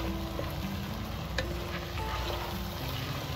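Food fried with a quarter cube of chili paste is stirred and mixed in a pan, giving a steady soft sizzle with light scraping and an occasional utensil tap, close and fairly quiet.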